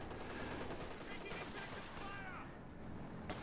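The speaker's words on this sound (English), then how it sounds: "Set down the machine gun, pull the trigger, just another day at the office." Machine-gun fire in Company of Heroes 2 rattles on as dense, rapid bursts over a steady battlefield rumble, heard faint and distant throughout.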